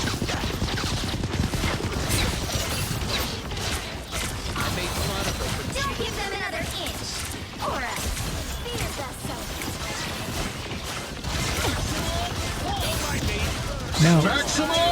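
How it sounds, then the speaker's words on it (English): Rapid automatic turret fire from the Punisher in the video game Marvel Rivals, a dense continuous rattle of gunfire and mechanical clatter mixed with explosions and game effects, with voices talking throughout. "the Punisher has enabled his turret"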